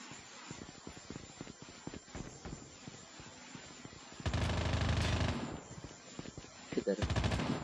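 Rapid video game gunfire rattles in bursts of machine-gun fire, with a louder, denser volley in the middle and another near the end.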